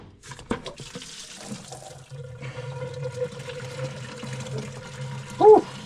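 Coolant from a CAT 3208 engine's radiator pours steadily into a bucket with a continuous splashing rush, a few knocks near the start and a short squeak near the end.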